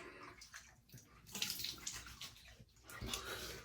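Warm water runs from a tap into a sink for shaving, a soft steady splashing stream with a few brighter bursts as the flow shifts.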